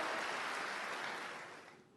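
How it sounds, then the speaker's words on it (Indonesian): Faint applause from a church congregation washes through a large room for a couple of seconds, gradually thinning and fading out toward the end. "Tepuk tangan yang meriah buat Tuhan dong saudara."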